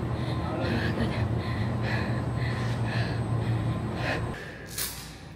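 Heavy, rapid breathing and gasps after a calisthenics warm-up, rhythmic huffs close to the microphone over a steady hum of room noise.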